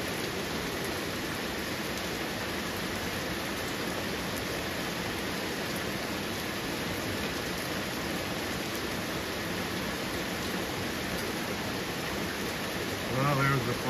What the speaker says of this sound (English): Just nice, steady rain.